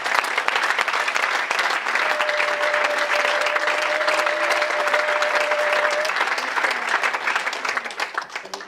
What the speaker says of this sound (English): Yes, give him an applause.